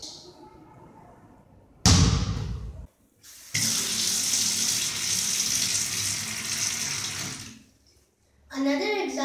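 Water runs from a tap in a steady, loud hiss that starts after a brief clatter and continues for several seconds before cutting off, followed by a voice speaking.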